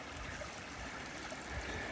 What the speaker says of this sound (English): came across this creek.